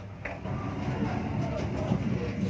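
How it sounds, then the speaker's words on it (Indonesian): A Logawa economy-class passenger train rolls along the rails, a low steady rumble with rattling and faint clacking from inside the carriage, close and continuous. "Nah, ini keretanya udah jalan ya teman-teman."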